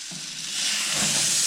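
A steak sears on a grill during its final minutes of cooking, giving a steady, close, broadband sizzle that swells slightly louder and holds without any talk.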